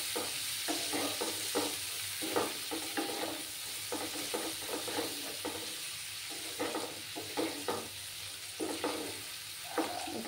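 Chopped onions fry in a pan with a steady hissing sizzle, broken by repeated scraping strokes from a spatula stirring them, close and moderately loud with no talking.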